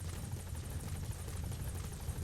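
A helicopter arrives in Metal Gear Solid 5: The Phantom Pain, its rotor producing a loud, continuous low thudding chop with a rushing high whine layered above, steady and close.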